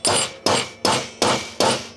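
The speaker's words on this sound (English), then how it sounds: "Should we center punch it first?" Five sharp metallic hammer strikes on a center punch driven into a PC case, evenly spaced about half a second apart, close and loud, each with a short ringing decay.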